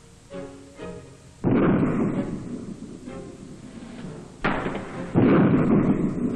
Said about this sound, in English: Also in close support of the infantry are the 50-ton Centurion tanks. Their 20-pounder guns range up to 5 miles.